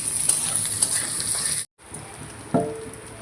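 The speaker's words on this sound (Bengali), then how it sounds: "এদিকে কাজু আর কিশমিশ এটাকে ভালো করে ভেজে নিতে হবে" Cashews and raisins fry in white oil with bay leaf, garam masala and cardamom for Basanti pulao, giving a close, crackling sizzle that cuts out briefly, then resumes more softly after a light clink.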